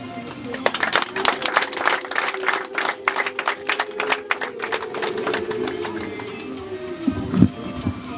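Wedding guests at a Rwandan ceremony clap in a burst of crisp, irregular applause nearby, tapering off after several seconds while a voice briefly speaks over it.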